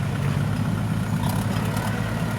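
A low, steady engine drone idles close by, a continuous rumbling hum with no talking.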